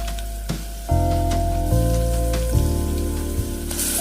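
Onions and paste sizzle in a pan for chicken curry, a close, crackling hiss like rain on a surface that runs through the clip alongside steady tonal music.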